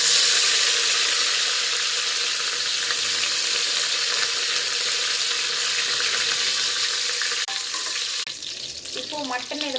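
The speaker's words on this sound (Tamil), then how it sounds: "பட்டை, லவங்கம், சோம்பு இது எல்லாம் போட்டு பொரிய விட்டுறணும்." Whole spices (cinnamon, cloves, fennel) with curry leaves and mustard seeds frying in oil for mutton kuzhambu, a steady close dense sizzle throughout, with brief stirring clatter near the end.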